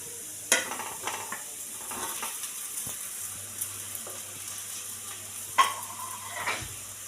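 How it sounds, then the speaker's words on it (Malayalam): Cut rice-flour dumplings are stirred into browned seasoning in a pan, with a soft continuous sizzle and sharp scraping clinks of the spoon against the pan at irregular intervals, close and fairly quiet. "നമ്മളെ ഈ ഉണ്ട ചെറുതാക്കി കട്ട് ചെയ്ത അരിപ്പൊടി കൊണ്ടുള്ള ഉണ്ടേന ഈ വറവിലേക്ക് നമ്മൾ ഇപ്പം ചെറിയൊരു ബ്രൗൺ വരെ ആക്കി വെച്ച ഈ വറവിലേക്ക് നന്നായിട്ട് യോജിപ്പിക്കുക"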